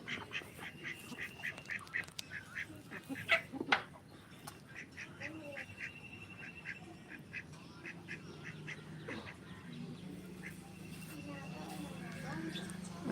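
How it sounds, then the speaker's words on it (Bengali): Ducks quack in a loose series of short calls, clustered near the start and again around the middle, with a person calling out to them and talking nearby over a low outdoor hum. "কত সুন্দর লাগছে হাঁসগুলো"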